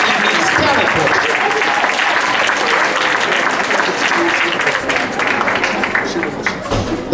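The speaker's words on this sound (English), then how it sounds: "Can I get a round of applause for all of our lovely ladies in this evening's talent portrait?" Audience applause at a Miss Black & Gold pageant evening, a dense, loud, sustained wash of clapping from a large crowd filling the whole stretch.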